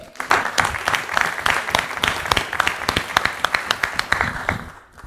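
A public-forum audience claps for a congressional candidate, a lively burst of individual claps close and distinct, swelling and tapering off toward the end.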